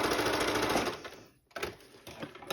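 Sewing machine stitching fabric for foundation paper piecing, a close rapid whirring run that slows and stops, followed by a few brief restarts and clicks.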